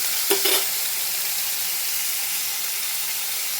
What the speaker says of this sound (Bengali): আমি এরকম লম্বা লম্বা পাতলা করে আলুগুলো কেটে নিয়েছি। আবার এটাকেও ভেজে নিচ্ছি।